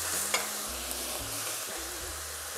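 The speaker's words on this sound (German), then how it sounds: "Und das Ganze lassen wir jetzt auch noch mal 3 Minuten mit anbraten" Mixed vegetables and pressed garlic fry in a pan, a loud steady sizzle close by, with intermittent stirring scrapes and low rumbles from the stovetop.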